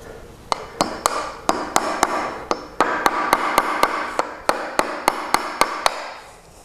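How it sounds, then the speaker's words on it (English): Hammer toenailing nails into wood at an angle: a steady run of sharp, ringing strikes, about two or three per second with brief pauses, close and loud, with no talking. "And then you keep nailing."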